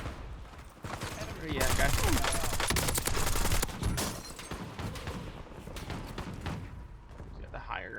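Video game gunfire during shooter gameplay, bursts of rapid automatic shots and thumping impacts layered over a continuous battle din, with a player talking over it.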